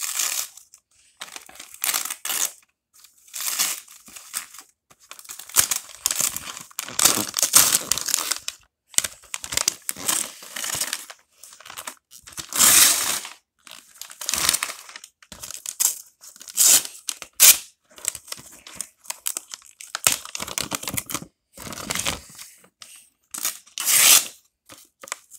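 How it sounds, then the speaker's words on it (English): Wrapping paper on a Christmas present being torn and crinkled open in repeated bursts of ripping and crumpling, close and fairly loud, with brief pauses between handfuls. "let's go ahead and unwrap the presents."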